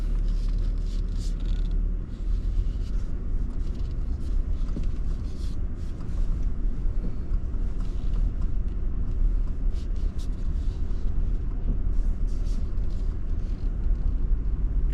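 A 2024 Nissan Frontier Pro-4X pickup drives along with a steady low engine and road rumble heard from a window-mounted camera, constant and fairly loud, with occasional wind buffeting.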